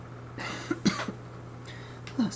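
Two short bursts of coughing, close and fairly quiet, a couple of dry hacks followed by a pause and another brief cough.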